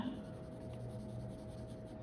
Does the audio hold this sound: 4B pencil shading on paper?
yes